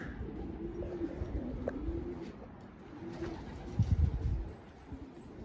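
Soft, low coos of racing pigeons repeat several times against a rustling outdoor background on a rooftop loft, close by, with a brief louder flutter near the end.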